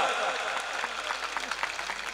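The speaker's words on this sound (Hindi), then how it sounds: "जोरदार तालियां पाचो स्वागत कराओ एक बार" Audience applause at a live Rajasthani stage program in Mumbai, a steady wash of many hands clapping with crowd noise throughout.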